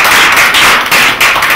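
An audience claps loudly and continuously for two first-place competition winners, a dense close burst of applause with no voices.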